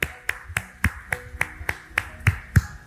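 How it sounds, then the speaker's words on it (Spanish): A church congregation giving applause sounds as a run of about ten sharp, evenly spaced claps, fairly faint and close, like a single pair of hands clapping in rhythm. "Denle un fuerte aplauso al Señor."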